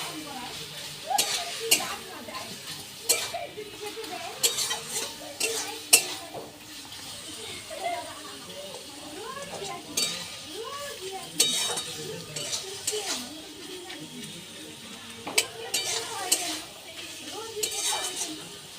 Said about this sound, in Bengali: এবার আমি দিয়ে দিচ্ছি আদা বাটা।